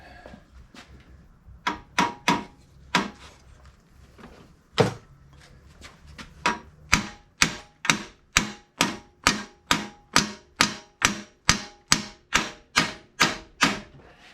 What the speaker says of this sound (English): I want to pound that down and make it even closer, and then we'll weld it